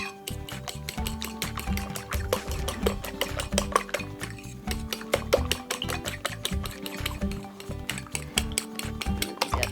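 Batter for children's breakfast flatbread stirred in a bowl, a spoon or whisk clinking and scraping against the dish in a steady, busy rhythm, close and fairly loud, with no talking.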